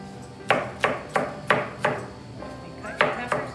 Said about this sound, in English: And cut your peppers down.